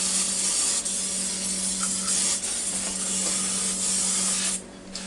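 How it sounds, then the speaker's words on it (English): Olive oil cooking spray hisses steadily onto chicken thighs set skin-up in a Ninja Foodi, a close, continuous spray with a few brief breaks and a faint pause near the end. "now I'm going to spray it with some olive oil here."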